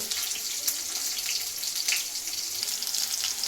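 Something frying in a pan until crispy, a loud, dense, continuous sizzle with crackling bursts throughout and no talking.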